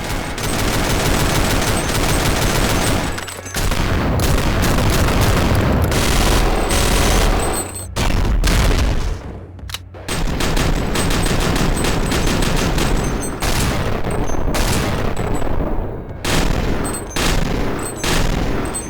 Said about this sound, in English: Guns now have incredibly beefy sounds.